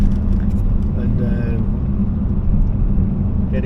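A car engine pulls hard through the gears on a road, a loud, low, steady drone with a slight rise in pitch, heard from inside the cabin.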